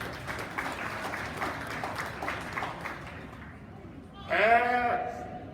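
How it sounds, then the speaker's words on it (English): Scattered audience clapping at a county fair sheep show patters for several seconds under a speaking voice, then a sheep bleats loudly nearby near the end. "Please give them a nice round of applause while I take them home to consider."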